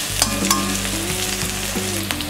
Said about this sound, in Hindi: 2 मिनट फ्राई कर लिया है गार्लिक का कच्चा स्मेल जाने से।